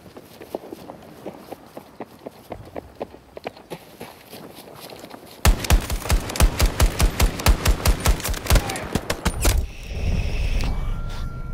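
Video game gunfire as regular rhythmic shots, quieter and spaced at first, then a louder, faster close burst of automatic fire before a brief pause.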